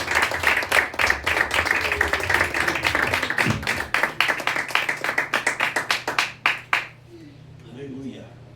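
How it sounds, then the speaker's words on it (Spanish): A church congregation breaks into loud, sustained applause that thins into scattered individual claps before fading, with a voice and murmuring audible beneath it. "¿Cuánto le da un aplauso al Señor?"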